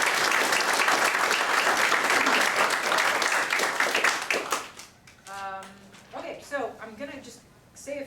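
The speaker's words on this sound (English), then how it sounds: "So, round of applause to you guys." A volleyball team and onlookers burst into loud, close applause after a senior night game, dense clapping that fades out after about five seconds into people talking.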